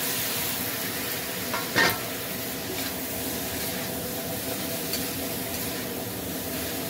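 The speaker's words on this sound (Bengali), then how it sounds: "এখন আমি এই সবজি দিয়ে দেবো, এই যে সজনে আর আলু।" Moringa drumsticks and potatoes drop into a hot pan of oil and fry with a steady, close sizzle. A brief clatter marks the vegetables going in, then stirring scrapes run under the constant hiss.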